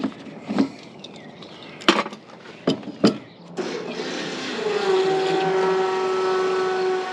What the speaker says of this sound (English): It's nice when you have the electric pump.